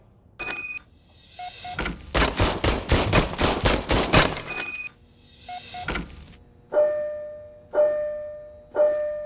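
Service pistol fire in the video game Robocop Rogue City: a rapid burst of loud shots in a tight cluster, a few single shots around it, then three ringing mechanical clicks with electronic tones, no talk.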